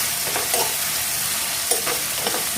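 Onions and green chillies fry in a pan for chicken curry, a loud, steady close sizzle with brief scraping stir strokes throughout and no voices.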